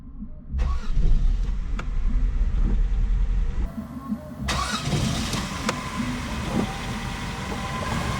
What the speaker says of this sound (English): simply press the ready button to jump start the car